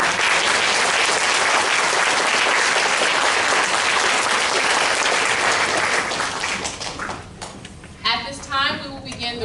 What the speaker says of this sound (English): Can we have another round of applause for our performers?